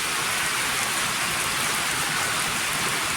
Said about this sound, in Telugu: ఆ మరిషెట్టు కింద ఫుల్ వర్షం పడుతుంది